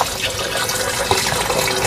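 Water pouring steadily into a cooking pot before boiling, a continuous close splashing rush that stays loud and even throughout, with no one speaking.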